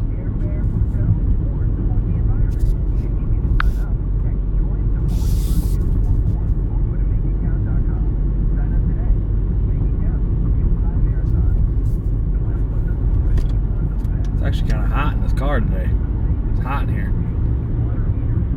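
Steady, loud low-pitched rumble of road and wind noise through an open window of a moving rideshare car, continuous throughout with faint clicks and a voice heard over it at times.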